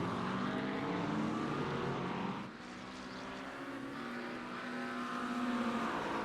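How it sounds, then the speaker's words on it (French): GT3 race cars at Sonoma Raceway, including a McLaren 720, roar past in a loud, continuous engine howl with shifting pitch, easing briefly mid-way before building again. "On court après la voiture de Bouchard, là, présentement."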